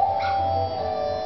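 Short in-game dog bark from The Legend of Zelda: Majora's Mask, a brief synthesized yelp over steady game music, heard alone without talk.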